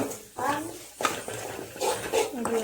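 A spoon scrapes and clinks in a pan as gurāl spice powder is stirred into a bitter gourd stir-fry. Several short scraping strokes come close and clear, with light sizzling and a voice talking in between.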